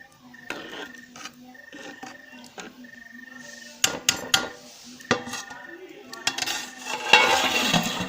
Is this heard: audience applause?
no